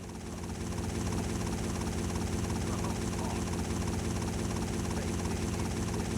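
A helicopter in the video game GTA Vice City Stories, its rotor thumping in a fast, even pulse over a steady engine drone that holds at constant loudness with no talk.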